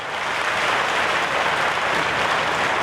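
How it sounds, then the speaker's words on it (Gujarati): Loud, sustained applause from a large crowd at a Thakor community mass wedding ceremony in Viramgam, Gujarat, a dense wash of clapping at steady volume throughout with no speech. "તાળીઓને જોરદાર તાળીઓ પડવી જોઈએ"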